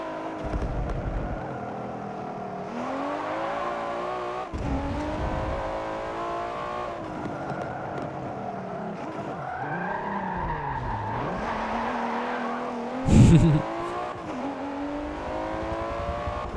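Lamborghini Huracan in the racing video game Forza 7, engine revving and shifting through gears with rising and falling pitch, tire squeal and a brief loud impact near the end, steady and close.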